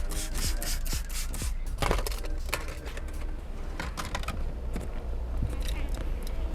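Plastic scraper working over the glass of a Hyundai Avante MD windshield before window tint is applied, a steady close rasping with quick ticking clicks scattered through, no voices.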